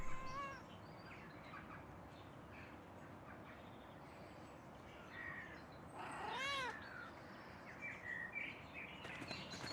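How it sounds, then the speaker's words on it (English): A cat in the video game Pentiment gives a couple of short meows, the clearest a rising-falling cry midway through, over a quiet ambient background with no talking. "Oh, gotta pet the kitty cat."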